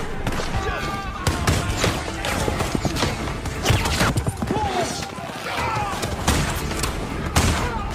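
Gunfire in a film shootout as hidden gunmen rise from a trench to fire at outlaws, with loud rapid volleys of shots and crashes mixed with other action sounds.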